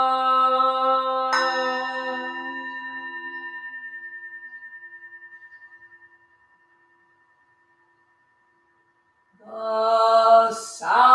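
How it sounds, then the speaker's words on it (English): A single Buddhist temple bell strikes and its ringing tone slowly fades into silence, then a second loud strike rings out near the end. "The sound of the temple bell booms for all to cease from conflict."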